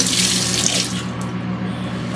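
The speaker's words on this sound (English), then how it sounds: "So let me just rinse this real quick." Food being rinsed under a running kitchen tap while making chicken Alfredo pasta, a steady close rush of water splashing into the sink for the whole moment, with no talking.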